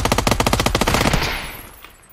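A video game machine gun fires a rapid, loud close-range burst of about a dozen evenly spaced shots, then the sound rings out and decays over the last second.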